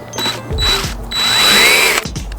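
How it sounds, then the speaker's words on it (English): A power drill whirs close and loud in short bursts, its motor pitch rising and falling as it bores down between two stacked lids. "I'm just going to drill down, lift up."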